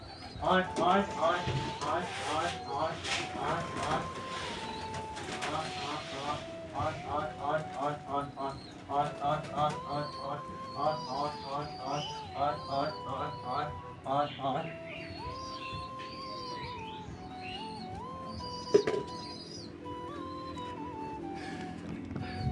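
Pigeons shut inside a loft coo repeatedly in a steady, rolling rhythm, close and fairly loud, with several birds overlapping and a few sharper calls and rustles.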